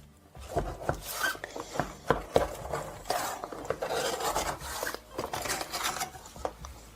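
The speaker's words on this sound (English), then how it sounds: "Very carefully go around the mold with a knife like this to very slowly and carefully remove it." A knife scraping and rasping around the inside of a metal mold holding a freshly baked banana sponge cake, a close, steady series of short scratching strokes.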